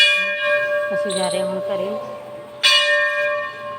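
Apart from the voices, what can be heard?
temple bells ringing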